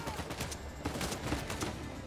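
Rapid gunfire from an Uncharted video game while the character hangs from a rope taking headshots, a dense stream of shots and impacts continuing under game noise.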